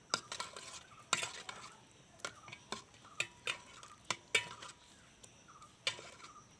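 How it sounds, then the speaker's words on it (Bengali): A spoon stirs semolina pitha through warm milk in a pot, giving a run of sharp, irregular scrapes and clinks against the metal, close and fairly loud over a quiet background. "পিঠাটা দিয়ে আমি এখন এটাকে একটু নেড়ে চেড়ে দিব।"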